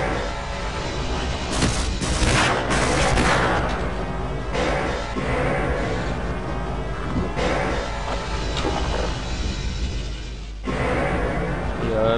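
Gunfire and explosive blasts in the Half-Life video game, dense booming shots and crashes filling the whole stretch at steady high volume, with a brief drop near the end.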